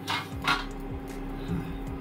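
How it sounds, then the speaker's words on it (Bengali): A metal lid lifted off a cooking pan while making bread pizza, two quick close clinks of metal on metal followed by a softer scrape and faint clatter over a low kitchen hum. "এবার আমি ঢাকনাটা খুলবো।"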